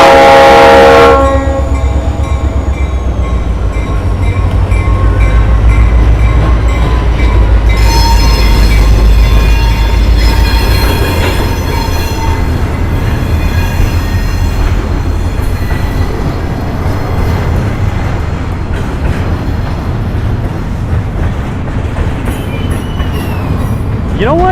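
A train passes through downtown Miami, a loud continuous rumble with wheels squealing and clattering. A long horn blast sounds at the start, and faint voices come through under the roar.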